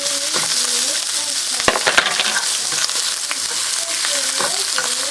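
Shrimp and garlic stir-frying in a pan for pad thai, a steady close sizzle with scraping stirs and a few sharp clatters midway, no voices.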